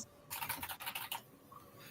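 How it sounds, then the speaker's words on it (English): A loud, cheap computer keyboard clatters in a quick burst of about eight sharp key presses, close to the microphone, then stops, leaving quiet room noise. "That's very loud keys."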